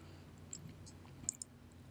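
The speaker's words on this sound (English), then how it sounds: "Apply some pressure with your finger to click it in." A cooling fan from a Mac Mini A1347 being pressed into place by finger, giving a few faint, light plastic clicks close by over a low, steady room hum.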